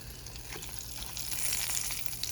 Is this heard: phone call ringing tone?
no